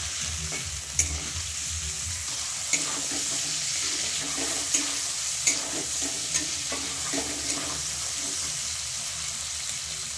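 Fish pieces frying with four or five green chillies in a pan, a continuous close sizzle with periodic scrapes and clacks from stirring, no talking.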